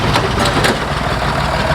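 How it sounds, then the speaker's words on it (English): A tractor engine runs steadily and loudly at a hop garden during harvest, a dense low rumble with a constant chugging throb and no pause. "you've just got another tractor coming forward"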